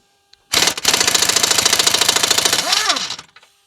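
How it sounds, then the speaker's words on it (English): A pneumatic air impact gun hammers hard in a rapid, loud rattling burst for about two seconds on a bolt at the bottom of a Fiat Punto gearbox, then winds down with a falling whine. "Get the air gun on it."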